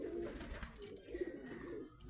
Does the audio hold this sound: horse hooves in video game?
no